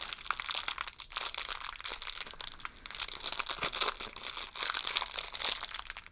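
A plastic LEGO parts bag crinkles and crunches continuously as hands struggle to pull it open, with close, busy rustling bursts lasting throughout.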